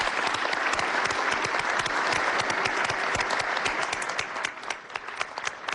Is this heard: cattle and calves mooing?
no